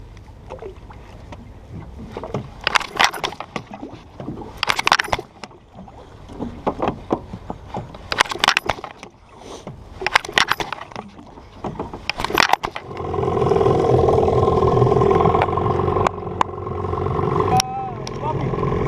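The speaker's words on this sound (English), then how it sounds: "It looks like my engine won't start up." A flooded boat engine on a fishing trip is cranked in several short, separate bursts, then catches and runs continuously in the final seconds, with voices talking nearby.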